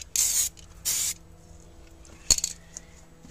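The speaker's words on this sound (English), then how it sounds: "I sprayed the graphite spray all over the screen" Graphite spray from an aerosol can hits a screen in two short, loud hissing bursts, followed by a faint clink and a brief rattle in an otherwise quiet room.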